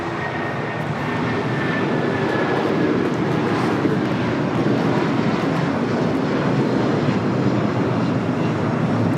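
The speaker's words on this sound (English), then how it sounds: "2127 taking off to Newark on the 757-200." A United Airlines Boeing 757-200 bound for Newark takes off at LAX, a loud, sustained jet roar holding steady throughout with a faint high whine drifting across it.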